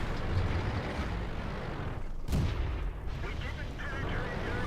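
Artillery fire in the tank game World of Tanks, with a sharp boom near the middle over a steady rumbling battle bed of engine and distant gunfire noise, with no speech.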